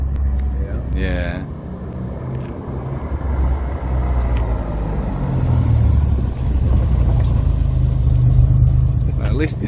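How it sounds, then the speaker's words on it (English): A Lancia Stratos replica, a Lister Bell build, drives out on its first test drive with a loud, close engine rumble that swells steadily and keeps a deep low drone throughout. A voice speaks briefly near the start. "we have Mikey taking for a spin with David."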